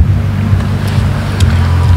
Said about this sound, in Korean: 지금 뒤쪽에 물 흐르는 소리가 나요.